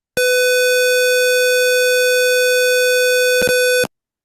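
A gas leak detector's buzzer, part of an analog detector circuit with an automatic fan, sounds a loud, steady electronic tone for about three and a half seconds, with a brief dropout just before it cuts off.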